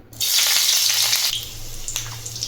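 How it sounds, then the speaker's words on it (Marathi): Green chilies hit hot oil in a pan for sabudana khichdi with a sudden loud, close hiss that keeps sizzling steadily, then eases slightly. "तेल गरम झालं त्यामध्ये आता हिरवी मिरची टाकून घेऊ"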